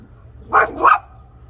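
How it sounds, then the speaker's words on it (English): A pet dog gives two quick sharp barks outdoors near a garden, close and clear, separated by a brief pause against a quiet background with a low hum. "And yes, that was my dog Summer."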